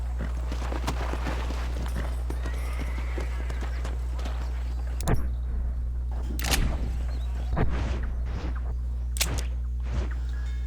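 Hooves of a horse in Red Dead Redemption clop in a few separate bursts of steps over steady game ambience, moderately close and not very loud.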